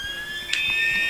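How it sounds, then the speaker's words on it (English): A football ground siren sounds to end the quarter, a sustained electronic tone that holds steady and grows slightly louder, with a brief click partway through. "that's the siren"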